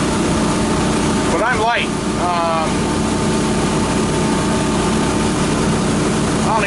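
A Volvo Penta boat engine runs at cruise near 3,200 RPM with a loud, steady drone and rushing water. Early on, someone briefly talks over the noise.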